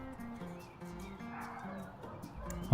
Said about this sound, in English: Oh, look, my dogs are barking again.